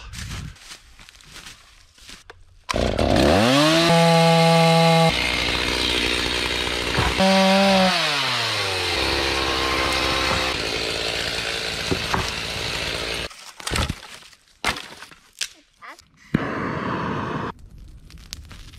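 A chainsaw roars close by while cutting down trees to clear land, revving up and down and cutting steadily for about ten seconds before idling off, with quieter handling noises around it.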